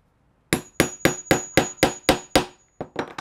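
A hammer strikes repeatedly to set a snap on a fabric purse: about nine sharp, evenly spaced taps, close and clear, followed by a couple of lighter quick hits at the end.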